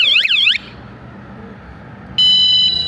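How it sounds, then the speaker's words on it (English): A loud warbling electronic alarm sweeps up and down briefly, cuts off into quiet background, then a steady high beeping tone starts up near the end. "I turned wrong alarm off first"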